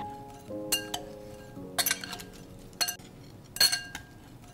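Spoons and utensils clink sharply against a glass bowl while shrimp is mixed with seasoning granules, salt and pepper, giving four distinct bright clatters spaced about a second apart over quiet background.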